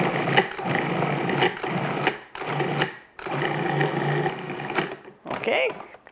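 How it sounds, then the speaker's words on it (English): A food processor whirs loudly while blending a sticky shortbread tart filling, running in several long bursts separated by short pauses, with a brief scrape near the end. "I'm going to process it, or if you're using like a mixer, just beat it until it's nice and smooth."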